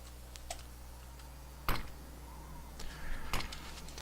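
A computer mouse left click in a desktop game session, with two sharp, fairly close clicks standing out over a steady low hum and faint keyboard-like ticking.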